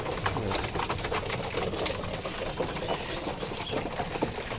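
Pigeons being fed in the morning, with steady soft cooing and occasional wing flaps from a flock close by, a continuous dense bird murmur with no talking.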